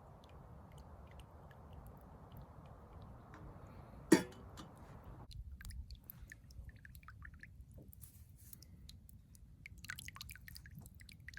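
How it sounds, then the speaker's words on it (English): Hot water poured for pretentious coffee brewing, a soft continuous trickling stream close by for several seconds, then a brief sharp clink and quieter dripping and small liquid sounds afterward. "Now we're ready to pour. The water's hot."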